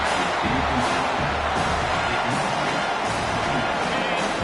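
Stadium crowd in the video game College Football 25, a steady, loud, broadband roar of massed cheering that holds constant throughout, with faint commentary voices underneath.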